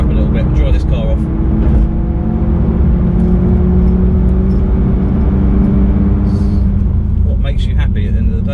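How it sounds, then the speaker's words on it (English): A Peugeot RCZ accelerates on an open road, its engine note climbing steadily in a loud, continuous rumble close to the microphone for several seconds, with the driver talking over it. "let's open her up a little bit and dry this car off"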